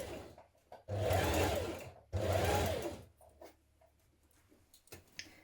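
Two quick close bursts of a sewing machine stitching a fitted dress facing into place, each a fast whirring run of about a second, separated by a pause and followed by soft fabric handling.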